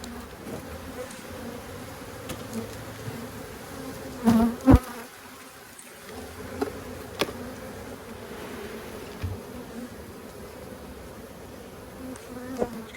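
Bees swarm and buzz densely around an overflowing, booming hive, a continuous close drone with a few brief knocks and bumps partway through.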